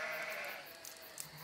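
Sheep bleating, a single sustained bleat that fades into soft outdoor background, heard clearly with no talking.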